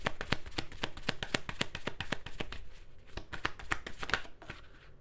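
Tarot cards are shuffled by hand in a rapid stream of crisp, papery riffling snaps with a brief pause midway, close and quiet, with no speech over it.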